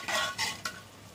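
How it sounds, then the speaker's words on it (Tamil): Crab stir-fried in hot oil and masala in a pan, giving three loud bursts of sizzling and scraping stirring strokes close by, each fading into a low steady fry. "நம்ம அந்த நண்டை 2 நிமிஷம் தான் லேசா எண்ணெயில வதக்கி எடுத்துறோம்"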